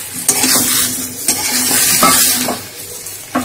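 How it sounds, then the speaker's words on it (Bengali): Potatoes and cauliflower fry in a pan while being stirred, a loud, close sizzle broken by regular scraping strokes of a utensil against the pan. "এবারে আলু দিয়ে দিচ্ছি, আলু দিয়েও আরো কিছুক্ষণ ভেজে নেব।"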